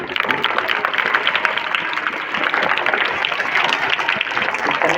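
Group of people clapping steadily at a Republic Day celebration, dense continuous applause with crowd noise and some voices mixed in.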